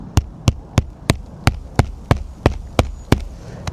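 A hammer drives a nail into a roof shingle with about a dozen sharp, evenly spaced taps, each a close, crisp knock in a quick steady rhythm.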